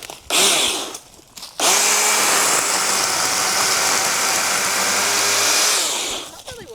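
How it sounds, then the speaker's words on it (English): A small chainsaw buzzes on, revving briefly, then cuts out and starts again to run at a steady high-pitched whine before winding down. "got a little chainsaw."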